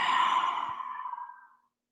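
One long, audible breath during a yoga sphinx pose, close and breathy, fading away after about a second and a half into silence.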